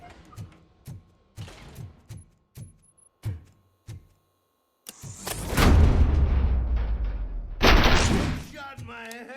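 Gunfire and explosions in the video game Robocop: Rogue City, a string of sharp separate shots followed by two long, loud roaring blasts, with a character's voice heard briefly near the end.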